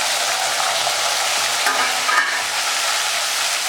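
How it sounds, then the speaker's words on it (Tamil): Whole onions frying in hot oil after vadagam in a pan for Tamil mutton kuzhambu, a dense continuous sizzle with a brief stirring scrape, no talk. "இப்போது வடகம் பொறிஞ்ச பின்னாடி முழுசான அப்படியே வெங்காயம் போடணும்"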